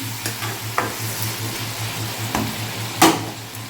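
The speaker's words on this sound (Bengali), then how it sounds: "চিংড়ি মাছটা ভাজা করছি" Prawns and onions fry in a pan with a steady sizzle, broken by a few sharp scrapes and stirring knocks of a utensil.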